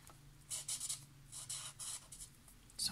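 Twinmaker alcohol marker coloring on coated paper, close soft scratchy strokes in short rhythmic bursts, faint and alone with no talking.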